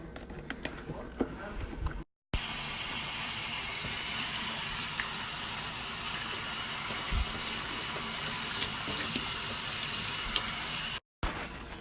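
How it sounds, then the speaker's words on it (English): Pickled grape leaves being rinsed under a running kitchen tap, a steady loud hiss of water that starts abruptly and cuts off near the end, with faint handling noise before it. "I need to rinse out the water."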